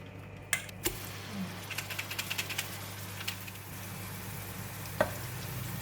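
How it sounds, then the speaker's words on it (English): Blended curry ingredients hit hot cooking oil in a pan for a Malaysian chicken curry, giving a soft steady sizzle punctuated by a few light clinks and scrapes, fairly quiet and without voices. "Heat the pan, and I'm going to put in cooking oil. And we're going to put in the blended ingredients."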